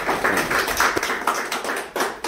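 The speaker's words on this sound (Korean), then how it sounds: "이럴 때 우리 박수 한번 합시다." An audience at a political talk claps in a loose, uneven burst of hand claps, moderately close and fading toward the end.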